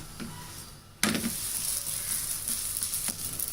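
A sweet paruppu poli flatbread is flipped on a hot pan. A quiet fry gives way to a sudden louder, steady sizzle that keeps going close up, with a light tap of the spatula partway through.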